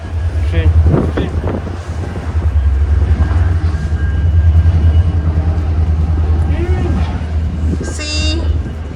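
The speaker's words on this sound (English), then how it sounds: "Train. Train." A train passes during a blizzard in Canada, a steady low rumble under strong wind buffeting the microphone, with people talking close by throughout.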